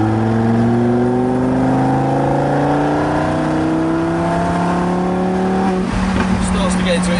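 A Lamborghini Huracan Performante Spyder's naturally aspirated engine is floored from low revs in manual, its howl climbing steadily and loudly in pitch before abruptly dropping off near the end.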